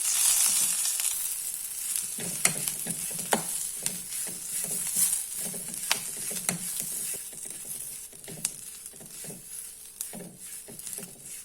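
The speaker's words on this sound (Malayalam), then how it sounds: "ഇനി നമ്മളുടെ കറിവേപ്പില ഇടാം. അത് നല്ലോണം വഴലണം." Curry leaves and turmeric powder fry in a pan, a bright continuous sizzle punctuated by rhythmic scraping strokes of a spoon stirring against the metal, close and loud.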